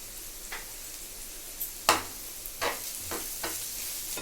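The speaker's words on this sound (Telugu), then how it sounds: "బ్రౌన్ కలర్ వచ్చే వరకు వేయించుకోవాలి ఉల్లిపాయలు" Onion pieces fry in a pan with salt and turmeric, giving a soft steady sizzle broken by several light scrapes and clicks of stirring.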